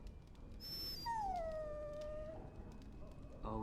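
Dog in the Dragon Age: Origins game letting out a drawn-out, high whining howl that slides downward and fades, close and clear over a low background hum.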